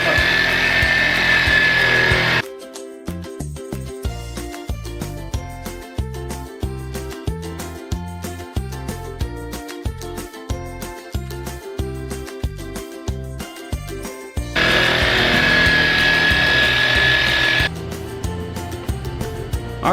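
A power polisher works Meguiar's Ultra Cut Compound into a headlight lens, whining steadily in two bursts at the start and near the end, with rhythmic music playing in the stretch between.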